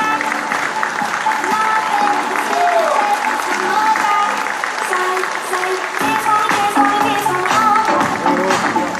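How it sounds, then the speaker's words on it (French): Audience applause fills a wedding fair hall in Hardelot, a steady, loud wash of clapping running throughout, with a presenter's voice and some tonal background sound layered over it. "Applaudissements s'il vous plaît."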